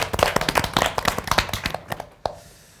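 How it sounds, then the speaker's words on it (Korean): A small group claps for the teams at the close of a Korean debate panel, a short, uneven patter of hand claps lasting about two seconds and ending on one sharp final clap. "서로에게 그리고 각 팀에게 수고했다고 박수 한번 드리도록 하겠습니다"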